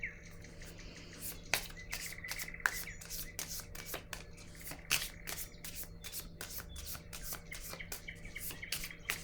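A deck of tarot cards is shuffled up close, giving a continuous run of crisp, rapid card flicks and slaps over a low hum, with no talking.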